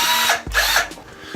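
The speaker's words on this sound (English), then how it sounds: "So I have this drill" A handheld power drill with a built-in light whirs in two short close bursts, its motor pitch rising and falling with a brief pause between runs.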